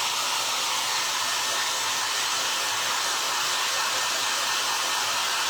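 A hair dryer blows on a DIY craft piece, producing a loud, unbroken hiss of rushing air at constant level throughout, with no voices.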